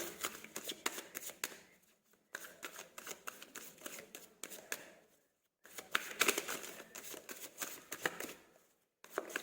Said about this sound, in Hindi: चलिए मैं निकालती हूँ कार्ड,